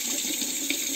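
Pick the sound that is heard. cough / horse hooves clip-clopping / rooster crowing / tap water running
tap water running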